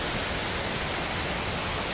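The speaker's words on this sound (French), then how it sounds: "Donc là c'est des petites cascades, voilà." Small waterfall cascades at Zong Roe Waterfall on Koh Samui give a steady, dense rush of falling water, even and unbroken throughout, with no voices over it.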